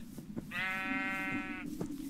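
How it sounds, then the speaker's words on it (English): A single drawn-out, wavering sheep bleat from the video game SolitaryCraft, clear and moderately near over a steady low background hum. "Oh, there's a sheep."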